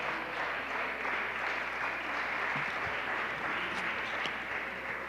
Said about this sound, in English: a warm round of applause for my panelists as they make their way off stage